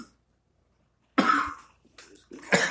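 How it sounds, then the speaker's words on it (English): Harsh coughing after smoking, a short burst of two or three rough coughs following a brief silence, close and fairly loud. "I can't even stop coughing."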